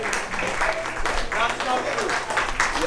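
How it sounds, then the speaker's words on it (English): An audience claps through a Christmas party award ceremony, steady dense applause with chatter and voices mixed in throughout, indoors and fairly loud. "give Mr. Khan another round of applause"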